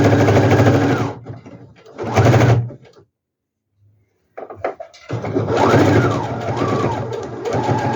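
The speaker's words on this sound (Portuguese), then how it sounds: "Inicio com arremate e costuro de uma extremidade à outra." Sewing machine stitching fabric for a geometric-print bag in fast runs, a loud close mechanical whir with a brief pause and quiet gap mid-way before the motor resumes and runs steadily again.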